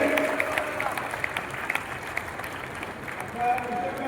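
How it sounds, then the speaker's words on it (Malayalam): An audience at a stage event in Kannur claps for a child performer, a scattered, moderately loud round of applause that rises briefly near the end. "നിങ്ങളെല്ലാവരും ഒരു നിറഞ്ഞ കൈയടി ഈ കുട്ടിക്ക് കൊടുക്കണം"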